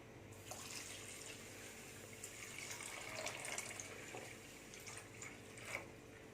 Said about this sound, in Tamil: ஒரு பாத்திரத்தில் போட்டு இது மூழ்கிற அளவுக்கு தண்ணி ஊற்றிடணும்